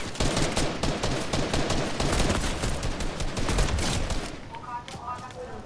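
Rapid, dense automatic gunfire in the Fortnite video game, a loud continuous burst of shots lasting several seconds before cutting off, with quieter game effects trailing at the end.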